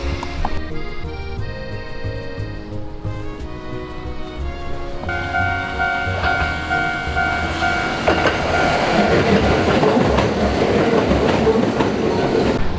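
A Kintetsu local train runs along the line toward Ise, a steady rumble with rhythmic wheel clatter that swells louder and nearer in the second half.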